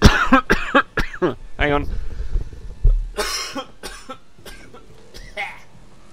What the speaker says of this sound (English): He's coughing his lungs out.